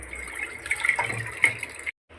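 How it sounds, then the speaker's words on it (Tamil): Water pours into a pressure cooker over soaked moong dal, a close splashing gush that rises and swells for under two seconds before cutting off abruptly. "பாசிப்பருப்பு குக்கரில் போட்டு தேவையான அளவுக்கு தண்ணி ஊற்றி"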